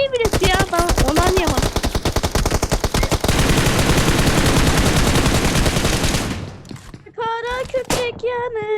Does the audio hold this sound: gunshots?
yes